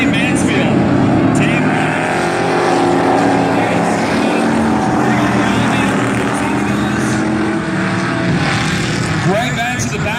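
Modified class race cars roar continuously around a dirt track at Valley Raceway, a loud dense wall of engine noise with rising and falling passes, and an announcer's voice running over the top.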